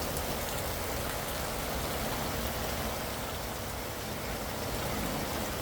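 Heavy rain pours down during a thunderstorm at an RV campsite, a steady, dense hiss of drops drumming on surfaces with no pauses.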